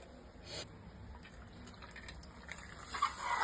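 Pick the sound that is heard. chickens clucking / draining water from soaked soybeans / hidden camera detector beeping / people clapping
draining water from soaked soybeans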